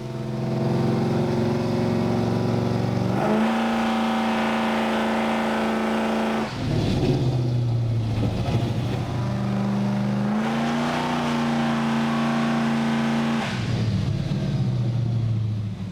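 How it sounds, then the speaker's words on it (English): A car on a dyno revs hard through a pull, its engine holding steady loud drones that shift pitch in stages as it climbs and backs off, continuous and close with no talking. "you should just be able to rev it up and then roll into it hard"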